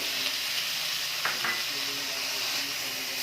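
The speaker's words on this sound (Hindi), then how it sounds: "टमाटर को भी तब तक भूनना है जब तक मसाला तेल ना छोड़ दे" Finely chopped tomatoes fry with garlic, ginger and onion in oil in a pan for a beetroot curry, giving a steady, even sizzle and hiss throughout with one brief stir or scrape.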